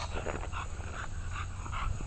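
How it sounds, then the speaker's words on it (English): A dog barks and whines repeatedly outdoors in a neighborhood after storm damage, short yelps and whimpers coming in a quick irregular rhythm at moderate distance. "Shush, you big mouth dog."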